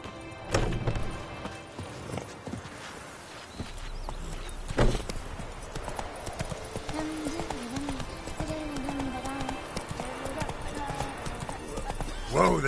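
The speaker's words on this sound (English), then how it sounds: "Whoa there, Roach." Horse hooves clip-clop steadily in The Witcher 3 as Roach moves along, with game music and ambience underneath and a voice speaking over part of it.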